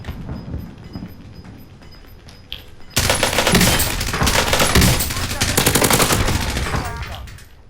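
Heavy automatic gunfire bursts out in Call of Duty Warzone, loud sustained rapid shots from about three seconds onward after a quieter stretch of ambient game sound.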